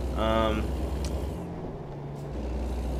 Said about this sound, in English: I thought that was a truck. Oh, it is a truck.